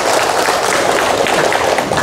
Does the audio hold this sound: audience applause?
yes